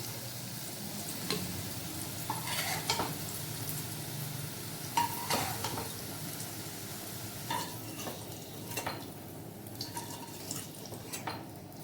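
Mushrooms fry in a pan with a low, steady sizzle while a utensil stirs them, giving a series of scraping taps and occasional clinks.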